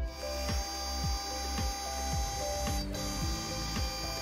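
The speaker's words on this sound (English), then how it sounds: "Next, I'll face my stock using an 8th inch end mill." An eighth-inch end mill faces Richlite stock on a milling machine, giving a steady machining whine with a repeating rhythmic pulse about every half second, close and continuous with no talk.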